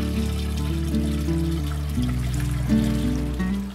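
Water poured into a garden container for mixing a plant treatment, a steady trickling stream with a faint tonal resonance as the vessel fills, continuous and close, no talk over it.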